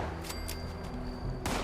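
Gunfire in the game Fallout 76, a couple of quick sharp shots followed by another burst after a pause, close and fairly loud over a steady game hum.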